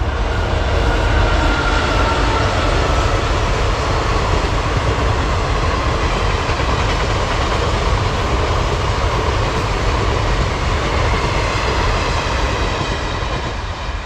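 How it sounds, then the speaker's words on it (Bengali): Train rolling past at Plassey railway station, a loud, steady rumble and rattle of wheels and wagons filling the whole span close by, with no talk over it. "এই যে দেখতে পাচ্ছেন বন্ধুরা ট্রেন এই চলে আসছে"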